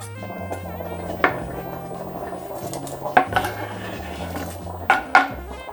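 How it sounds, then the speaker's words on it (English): A knife cuts beef into bite-sized pieces for Korean beef and radish soup, with a few sharp taps and clatters against a board and dishes spaced over a low background hum. "Let's take our beef out and cut it into bite-sized pieces."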